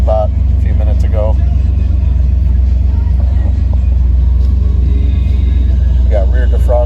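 A 1988 Pontiac Trans Am GTA WS6 engine idles with a low, steady rumble shortly after a cold start, close by, while someone talks over it intermittently.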